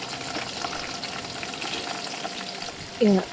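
Sliced onion and green chili sautéing in a pan for homemade biryani, a steady, moderate frying hiss that stays even throughout, ending in a brief louder tonal sound.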